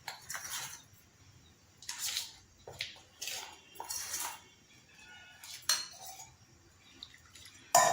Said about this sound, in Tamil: நீங்கள் தண்ணியை ஊற்றியே வந்து கலந்து வச்சுக்கலாம்